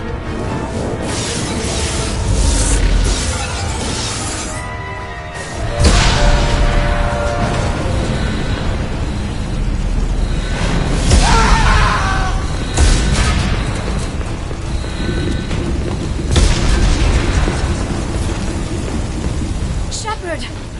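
Heavy rumbling booms and crackling impacts on a starship under attack in Mass Effect 2, as hull breaches and fire break out. Deep blasts recur every few seconds over a constant roaring, hissing din.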